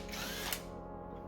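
An air impact gun spins off a front top shock mount bolt on a 2007 Honda Civic, one steady close whirring burst lasting over a second with no talk.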